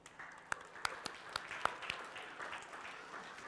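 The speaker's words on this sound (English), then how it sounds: "Another big round of applause for you." Sparse, scattered claps from an audience at a music studio recital in a church ring out, a few sharp individual hand claps over a soft wash of fading applause.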